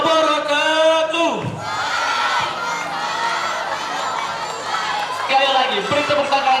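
At a school pageant in Palembang, a crowd cheers and shouts loudly after a speech, with voices whooping over the noise, then settles into a general clamour that swells again near the end.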